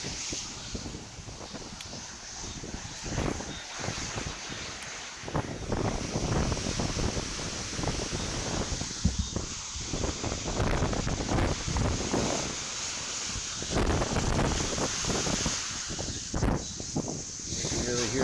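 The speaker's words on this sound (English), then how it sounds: "You can really hear the wind picking up." Strong wind roars and gusts across a coastline during Hurricane Beryl, with surf crashing in the background, a loud, continuous rushing buffeting the microphone, under a person talking.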